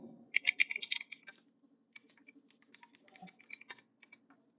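Typing an address on a computer keyboard while creating a company in Tally Prime 6.2: a fast burst of close, crisp key clicks, a brief pause, then a second, more scattered run of keystrokes, with a faint low hum beneath.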